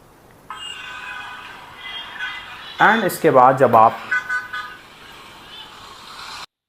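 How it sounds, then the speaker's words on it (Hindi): Ambient traffic recording played from a phone: a steady low rumble of road noise with a burst of car horn honks in the middle, while someone speaks over it. "I turn on the ambient traffic sound on my testing phone"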